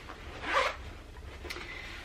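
A fly front zipper on a sewn garment is pulled up in one short, crisp zip at close range, followed by a faint brief rustle of fabric.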